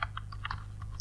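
Rapid typing on a computer keyboard: a quick run of about eight light, crisp keystrokes in an uneven rhythm, close and clear over a low steady hum.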